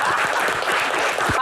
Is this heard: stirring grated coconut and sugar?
no